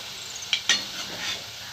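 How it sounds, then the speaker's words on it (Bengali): Bottle gourd leaf fritters fried red in oil give a continuous close sizzle, broken by two brief clicks of a utensil against the pan. "আমার লাল করে ভাজা হয়ে গেছে, এবার আমি এক এক করে উঠিয়ে নেব।"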